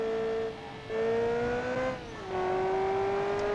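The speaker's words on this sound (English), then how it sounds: "This has to be a flat plane V8, because this sort of V8 sounds really wicked." A flat-plane V8 car engine in the BeamNG video game revs with a steady droning tone that dips and climbs slightly, loud and continuous.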